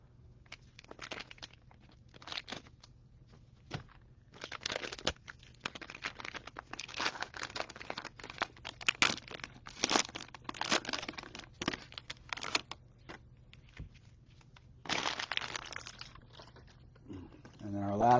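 Cellophane wrapping on a 2022 Score trading card box being cut and torn open, a long run of close crinkling, crunching plastic with short bursts and pauses, and occasional speech.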